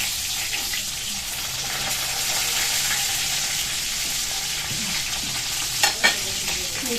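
Eggplant frying in a pan, a steady dense crackling sizzle running throughout, with a couple of brief knocks near the end.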